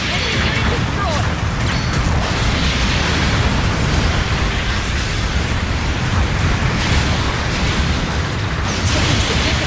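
A mobile suit blowing up in Gundam Battle Operation 2 gameplay, heard as a loud, sustained rumbling blast with crackling debris and mechanical clatter, dense and continuous across the whole stretch.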